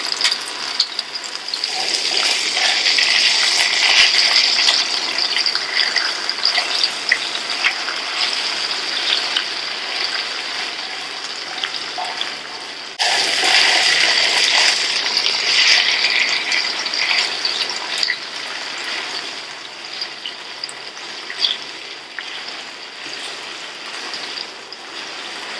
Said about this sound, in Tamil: நல்லா ஃப்ரை ஆகணுங்க.